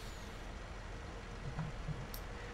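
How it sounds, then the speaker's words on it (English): In the Farming Simulator 19 video game, a truck labours up a hill, its low engine drone steady and fairly faint, with a brief higher hiss near the end. "Truck's having a bit of a hard time getting up the hill."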